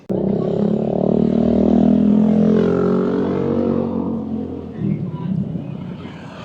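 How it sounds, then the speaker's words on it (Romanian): Traffic of tuk-tuks, buses and taxis circling the royal palace in Bangkok, a loud close engine rumble that swells and then fades, with people talking over it. "Pe aici, în jurul palatului, sunt foarte multe tuk-tukuri, se învârt autobuzele, taxiurile."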